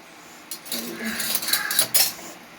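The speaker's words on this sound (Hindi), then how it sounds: "मैंने बर्तन रख रही है" Metal utensils and dishes clink and clatter as they are put away in a home kitchen, a cluster of bright, irregular knocks and jingles over about two seconds, fairly close.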